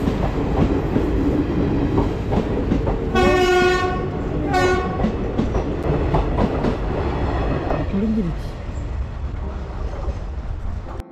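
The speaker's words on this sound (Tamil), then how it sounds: "இப்போ இங்கே வந்து ட்ரெயின் போக போகுது. அந்த ட்ரெயினை நாங்கள் பார்க்கலாம்" Train passing near the Alappuzha lighthouse in Kerala, India, a steady close rumble of wheels and carriages with two long horn blasts partway through, continuing loudly to the end.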